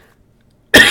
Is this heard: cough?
yes